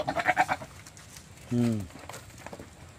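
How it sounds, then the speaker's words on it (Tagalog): A single loud goat bleat rings out near the mic, preceded by a man's brief speech, with quiet outdoor background around it. "Napakalaki ng kambing na to."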